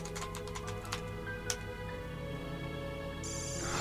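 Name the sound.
typing animation sound in a video game cutscene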